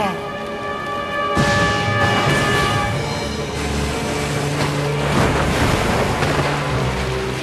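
Loud ocean surf and wind wash steadily around a sailing ship in an animated My Little Pony episode, with sustained tonal sounds layered over the rolling water.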